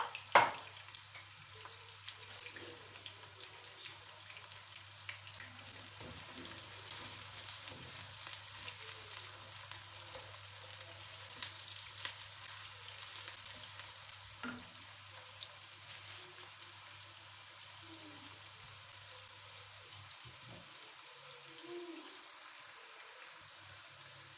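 Onions browning in oil for chana pulao, a steady low sizzle and crackle running throughout with occasional soft stirring scrapes, fairly quiet and with no talking.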